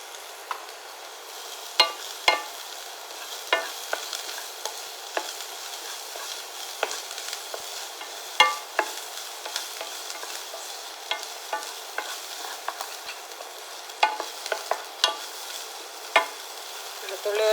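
Small shallots and garlic sizzle in a pan with a pinch of salt for a soup, a constant close frying hiss broken by repeated sharp scrapes and taps of a spoon stirring.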